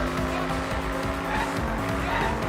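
Cars engines roaring and tires skidding in the video game Danganronpa V3, a steady close racing drone with squealing slides layered under it.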